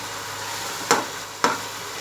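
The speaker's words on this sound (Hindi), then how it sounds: "टमाटरों को हम उस टाइम तक भूनेंगे कीमे में जब तक टमाटर सॉफ्ट ना हो जाए।" Tomatoes fry with keema in a pan for aloo matar keema, a soft steady sizzle punctuated by two quick scraping stirs close by, without talking.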